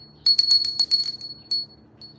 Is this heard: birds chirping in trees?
no